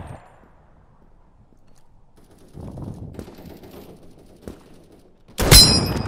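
A game-world gunshot in Krunker: a low rumble and a small thud build, then one loud, bright blast near the end, with little else around it.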